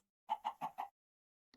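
Four quick chicken clucks from the Minecraft modpack StoneBlock 4 in a rapid, even burst, then silence and one faint tick at the end.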